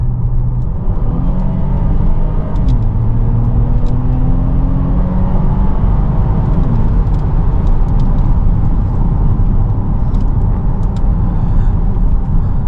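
An Opel Insignia Sport Tourer OPC with a 2.8L V6 accelerates along a straight road, its engine note climbing through a gear change into a loud, sustained rumble heard from inside the cabin.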